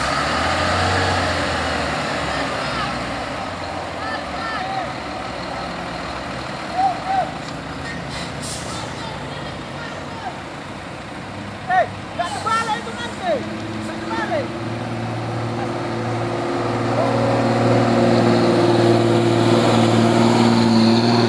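A heavy truck fails to climb a steep hill at Bukit Kodok in Indonesia and rolls backward, its engine droning loud and close with air-brake hisses and reversing beeps, while voices shout in the background.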